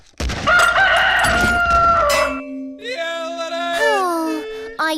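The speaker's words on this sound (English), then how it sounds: "Chicken is angry." A cartoon chicken squawks and clucks angrily, first a dense burst of agitated crowing cries, then a run of shrill, bending clucks and bawks, loud and close.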